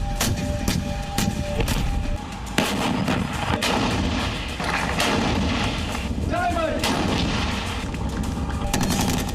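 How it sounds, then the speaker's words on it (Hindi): Heavy artillery cannon blasts boom repeatedly amid a dense, rumbling barrage during a military drill, with sharp reports and a continuous roar of distant firing. "गोले उगलती तोप दहाड़ रही हैं।"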